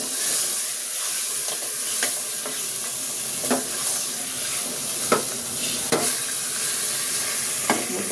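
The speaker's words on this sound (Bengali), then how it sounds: "এটাকে আমি একটু ভেজে নেব।" Rooster chicken pieces sizzle in a pan with fried onions, a steady hiss broken by sharp scraping knocks of a spoon stirring every second or so, close and clear with no talking.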